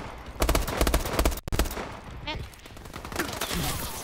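Video game gunfire from Call of Duty Advanced Warfare in a gun game match: rapid bursts of shots crackle in clusters with brief pauses, loud and close, mixed with game effects.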